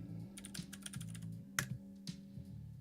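Clicky typing on a Vortex Race 3 mechanical keyboard fitted with Cherry MX Blue switches, a close, steady run of sharp key clacks with a few heavier strikes, alone without talk.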